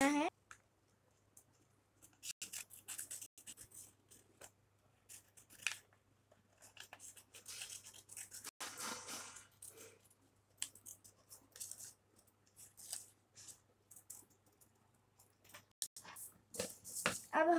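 Scissors snip through paper hearts in a run of quiet, irregular cuts with short pauses, close by and soft, against a faint low hum.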